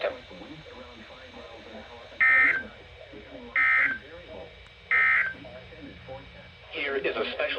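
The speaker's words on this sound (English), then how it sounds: "the National Weather Service has just activated the public warning alarm tone in the test of the" A National Weather Service public warning alarm test on weather radio: three short, loud, evenly spaced tone bursts break through a lower hum and murmur, followed by a noisier burst.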